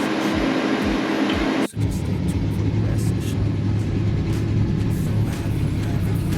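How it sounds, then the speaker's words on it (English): A newly installed AC blower motor in a 1992 Pontiac Firebird kicks on after a short pause, settling into a steady, close whooshing hum with a low tonal drone. "All right, the new blower motor's in."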